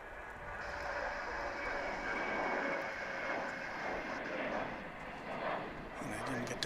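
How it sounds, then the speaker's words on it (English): A United Boeing 737-800 takes off from DFW International Airport, its jet engines a steady distant roar that holds throughout, with people talking nearby. "let's have our first takeoff of the day"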